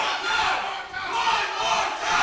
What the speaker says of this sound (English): Of course, the crowd wants one more time.